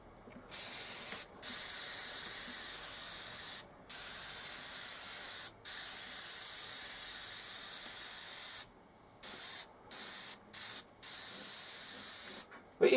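A home-made airbrush fed by a compressor sprays a pointed pattern, giving long steady hissing bursts broken by short pauses, then quick rapid on-off spurts near the end.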